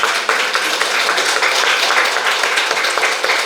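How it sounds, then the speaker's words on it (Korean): Dense, sustained applause from a congregation fills a church service, many hands clapping together at a steady level throughout with no pauses. "네, 우리 큰 박수로 한번."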